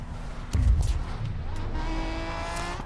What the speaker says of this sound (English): That was a wreck and a half.